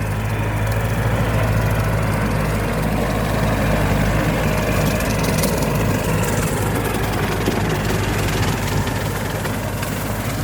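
A small Kubota L4708 tractor mows cogon grass in a palm plantation, its low diesel engine droning steadily and loud for the whole stretch with a rough, constant rumble and no voices.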